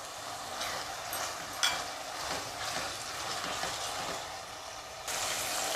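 Tomatoes sizzle and fry in hot oil with ginger-garlic paste, a steady close crackle with occasional stirring clatters, for a prawn biryani.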